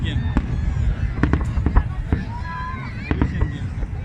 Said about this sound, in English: Now we are observing fireworks and drone show at Corniche